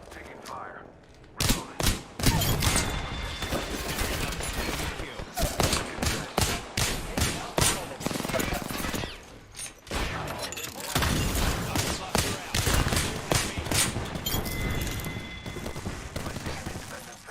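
Gunfire in a battle royale video game: bursts of automatic fire and single shots crackle back and forth with brief pauses, loud and close, with in-game character voices heard now and then.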